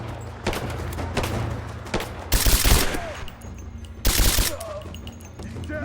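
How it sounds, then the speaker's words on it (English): Gunfire in the video game Rise of the Tomb Raider: loud bursts of rapid shots and booming blasts amid steady game ambience, with a voice talking in between. "Who's shooting?"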